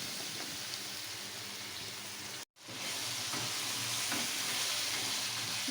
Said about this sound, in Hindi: अब इसके अंदर सब्जी डाल देंगे।